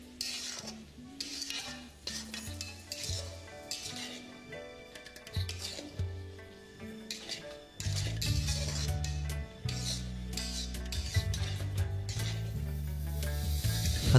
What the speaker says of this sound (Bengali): প্রথমে 1 কাপ দিয়ে দেওয়ার পরে সেটাকে ভালো করে মিশিয়ে নিন যতক্ষণ না চিনিটা একদম কমপ্লিটলি গলে যাচ্ছে।